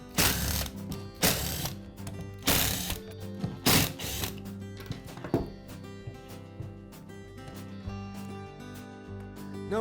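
Screws come out of the rear side cover of a DeWalt angle grinder, heard as loud bursts of close mechanical ratcheting and clicking early on that ease into quieter, scattered clicks, with no talking.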